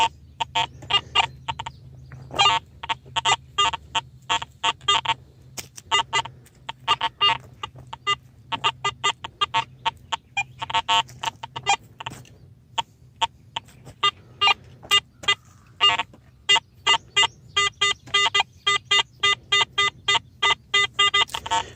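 A metal detector chirps repeatedly in quick, sharp electronic bursts over small nails, aluminum and iron pieces, sometimes in rapid clusters and sometimes spaced apart, over a faint low background hum.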